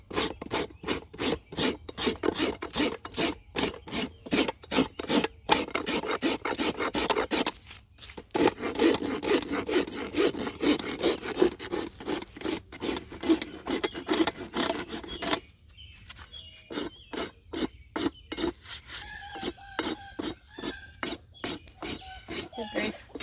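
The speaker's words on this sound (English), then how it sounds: "now I'm going to come back with the rasp so I get it all smooth" Steel rasp filing a horse's hoof during trimming, heard as a long run of steady, rhythmic rasping strokes close by, with a short pause midway and lighter, scratchier strokes toward the end.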